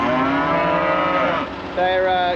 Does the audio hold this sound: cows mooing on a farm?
yes